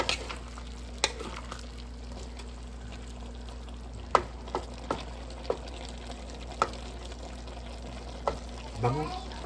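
Sautéed string beans for adobong sitaw being stirred in a pan, irregular scraping clacks of a utensil against the pan over a soft steady sizzle, close and moderately quiet.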